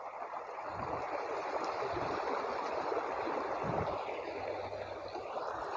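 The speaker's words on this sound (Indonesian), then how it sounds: "ini suara air gemericik" Continuous gentle rush of water from a rice-huller engine's cooling system under a leak test at a workshop, a steady even flow with faint mechanical hum beneath, moderately quiet and unbroken.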